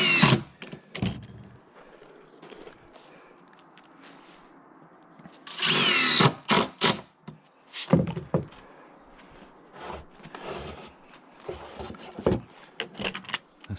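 A power drill drives screws into bowed deck boards in short, loud whirring bursts, separated by knocks, thunks and quieter pauses.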